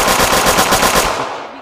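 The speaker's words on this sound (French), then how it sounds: "J'ai une autre mitrailleuse là." Rapid automatic machine-gun fire in a video game, a dense, loud burst of rhythmic shots lasting over a second before tailing off.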